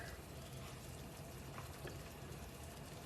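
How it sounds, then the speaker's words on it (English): White wine bubbling and cooking down with onions and garlic in a pan, a steady close sizzle and fizz holding level throughout with no talk. "So we're cooking down our white wine. We've got our our onions and garlic in there."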